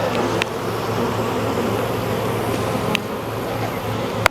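Honeybees at an opened beehive buzz agitated and close, a steady dense drone with a few sharper flicks as individual insects pass near.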